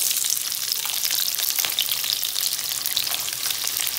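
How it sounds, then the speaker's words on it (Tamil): Medium-cut onion and capsicum sizzling in hot oil in a pan, a dense, steady hiss of frying that stays loud and close throughout with no talking. "சூடானதும் இப்ப நம்ம இதுல மீடியம் சைஸ்ல கட் பண்ணி வச்சிருக்கிற வெங்காயமும் குடமிளகாவும் ஆட் பண்ணிக்கலாம்."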